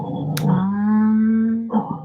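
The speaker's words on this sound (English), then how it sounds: "What did I say about the barking?" A dog indoors lets out one long, drawn-out howling bark, loud and close, with a shorter bark-like sound just after; no one speaks.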